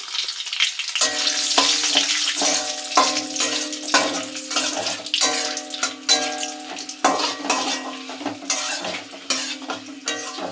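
A spatula repeatedly stirs and scrapes basanti pulao in a sizzling pan, producing rhythmic metallic clinks over a steady frying hiss.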